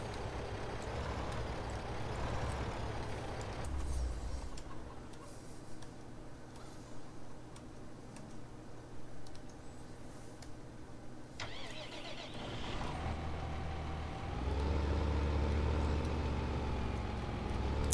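Tractor pulling a seeder in Farming Simulator 2015, its engine running at a steady mid-pitched drone that shifts tone partway through and swells louder near the end, with no voices.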